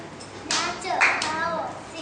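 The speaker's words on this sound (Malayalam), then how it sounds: "എന്നിട്ടാണ് കൈയടിക്കുന്നത്." Lower-primary schoolchildren at a music workshop at GLPS Veliyam, Kollam, Kerala, clap their hands in a few quick bursts while children's voices and talk carry over and around the claps.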